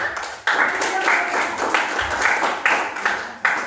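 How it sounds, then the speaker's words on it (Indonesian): A classroom group claps together during a micro-teaching lesson on algorithms, a dense mid-loudness patter with rising swells, with voices mixed in throughout. "beri tepuk tangan untuk kita semua"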